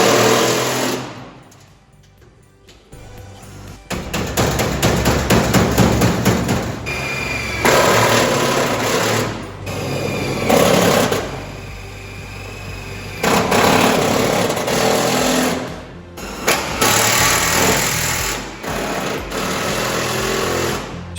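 A power driver sets tech screws into a panel on an abandoned Mk2 Ford Escort under restoration, in repeated loud bursts of high motor whine with short pauses between them.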